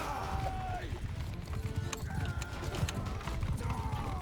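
Horse hooves clip-clop in Mount & Blade II Bannerlord, a steady rhythmic patter of hoofbeats mixed with clanking gear and battle noise, with someone talking over the top.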